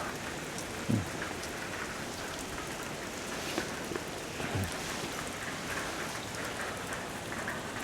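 Steady rain falling on surfaces in the morning in Samdet district, Thailand, a constant soft hiss with a few louder drops and taps, no talking.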